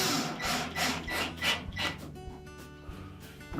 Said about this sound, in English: We'll start by installing a single screw right by the latch.